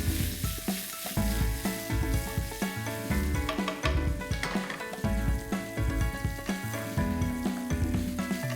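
Onions tossed into hot oil in a pan right after curry leaves and cumin, giving a loud, steady sizzle and frying crackle broken by repeated stirring and scraping strokes, with no voices.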